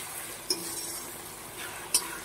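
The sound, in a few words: spice paste frying with onions in a pan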